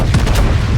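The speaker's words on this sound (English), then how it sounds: "Firing at that New York." Battleship guns from a naval video game fire at the New York, several heavy booming shots in quick succession, loud and close, with no talk.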